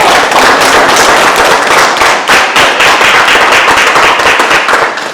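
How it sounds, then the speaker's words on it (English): Sustained audience applause at a UNIA Baltimore meeting in the Harlem Theater, dense crowd clapping held steady and loud throughout before easing slightly at the end. "so I'm going to give the family another round of applause"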